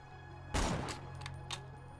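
A single sharp shotgun blast rings out in the shooter video game Borderlands 2, a loud burst followed by a short decaying tail and a couple of fainter echoing hits.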